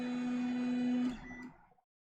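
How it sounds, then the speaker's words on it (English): Anet A8 Plus 3D printer finishing a print, a steady loud tonal stepper-motor whine with buzzing harmonics that stops abruptly about halfway through, leaving a fading tail and then silence. "Oh, hey, the Anet just finished."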